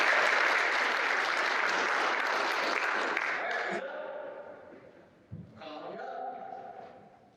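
Audience applause breaks out loudly for several seconds then dies away, followed by a person talking.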